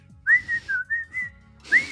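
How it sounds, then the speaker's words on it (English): A man whistles a show tune at home, a short melodic run of clear notes in several bursts, close and alone. "the only other side effects is whistling show tunes as I walk around my home"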